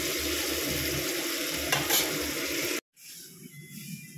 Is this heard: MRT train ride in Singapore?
no